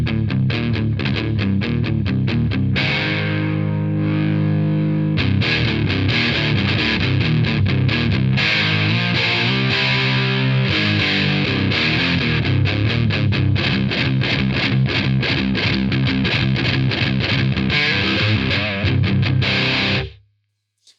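An electric guitar plays through a Moen Phoenix Song overdrive pedal: loud, driven chords and fast picked lines ring continuously for about twenty seconds before stopping abruptly.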